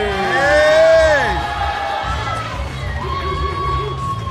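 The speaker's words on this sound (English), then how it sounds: "You can see the crowd cheering from outside of the ring." Crowd at an MMA fight night cheering loudly and whooping near the ring for a fighter, a dense roar of voices swelling early then holding steady with shouts and a whistle-like tone rising above it.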